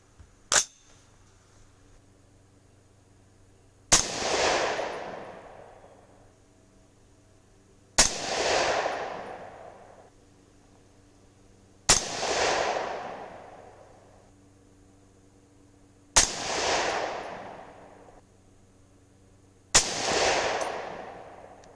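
.308 Winchester rifle firing 165-grain Hornady GMX rounds through an AR-Comp muzzle brake. One faint report is followed by five loud, sharp shots spaced about four seconds apart, each with a ringing decay outdoors.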